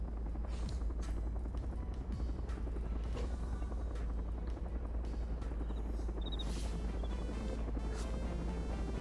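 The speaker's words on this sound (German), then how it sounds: "Hinter uns ist auch nochmal ein Heli." A helicopter in the DayZ Overpoch game drones steadily and loudly with a constant low rotor rumble and chop, a few clicks and bumps scattered over it, with no talk.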